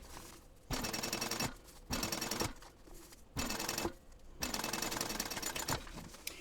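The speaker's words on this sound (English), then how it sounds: "So I'm going to go ahead and stitch across the top as well." A sewing machine stitches across a zipper seam on a backpack in four loud, rapid bursts, each about a second long, separated by short pauses, close up and without talk.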